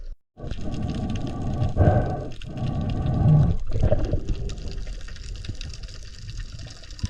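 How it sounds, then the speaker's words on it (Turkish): A spearfisherman swimming through the sea toward the shore, heard as continuous close splashing and sloshing water with bubbly churn, loud and steady throughout. "Emektar 75'lik zıpkınımı almak için hemen kıyıdaki aracıma doğru yüzmeye başlıyorum."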